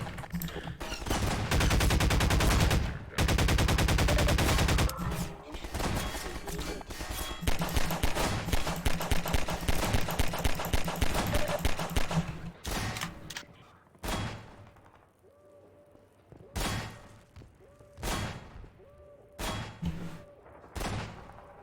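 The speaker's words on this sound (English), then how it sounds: "Who's shooting? And where?" Video game gunfire: long bursts of rapid automatic fire and dense fusillades, loud and close, giving way to scattered single shots and thuds with quieter gaps between them.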